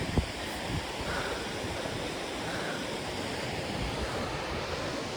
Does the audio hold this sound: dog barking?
no